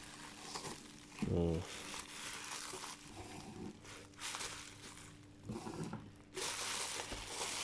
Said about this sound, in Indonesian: Kali ini saya mau unboxing satu buah mini kamera ya.